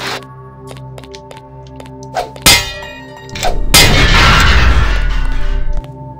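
Video game explosions blowing up a bot in Deus Ex in the Paris catacombs: a metallic clang and ding, then a heavy booming blast with a sustained roaring rumble, loud and close over quiet game background.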